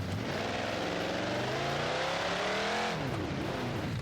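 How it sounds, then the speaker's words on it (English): A race car engine in a racing video game, rev-limited to about 6,000 RPM, holds a loud, steady drone as it climbs in pitch, then drops and rises again through a gear change, close and continuous with no talk. "Listen to my engine."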